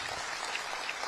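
Audience applause breaks out in a hall, a steady dense wash of clapping with no voices over it, lasting only about a second.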